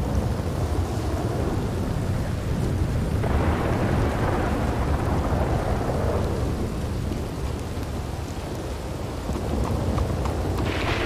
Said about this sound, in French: Mais il pleut si fort.